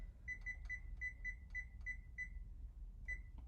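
A kitchen timer chirps in a quick series of short, high electronic beeps at an even pace, pausing briefly before one last beep, over a low steady room hum.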